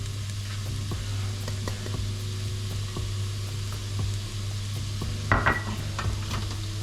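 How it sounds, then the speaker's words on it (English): Onions, spices and garlic sizzle in warm olive oil in a pan, a steady close hiss broken by light clicks and a brief louder clatter of a utensil stirring, with no talking. "in the pan I've got a tablespoon of olive oil warming up, and to that we're going to add the onions and then the spices and the garlic"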